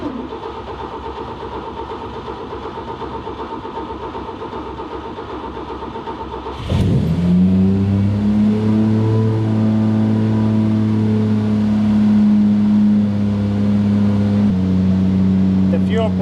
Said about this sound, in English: So I think now it's the time to start the car again